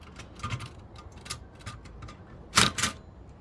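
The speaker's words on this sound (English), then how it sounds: "might as well start off typing in English" Keys strike on a Toshiba BW-3112 Japanese typewriter under restoration, giving scattered sharp clacks at an uneven pace. A louder double strike comes near the end, close and fairly quiet overall, with no talk.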